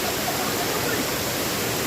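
A waterfall at Casilak View Farm in New Corella pours as a steady, loud, broadband rush of water that fills the whole moment with no pauses.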